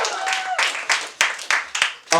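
Audience applause at a stand-up comedy show comes in short, loud bursts of clapping, about seven separate swells that each fade quickly, with a faint voice at the start.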